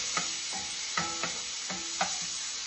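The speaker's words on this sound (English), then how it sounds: "We're gonna add a little bit of garlic over here" Garlic frying in a pan, a steady close sizzle with several sharp stirring scrapes spaced through it and no talk.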